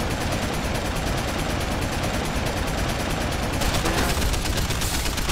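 Rapid, dense gunfire in the video game Deus Ex: The Fall, a loud continuous burst of shots that keeps going throughout with no pause.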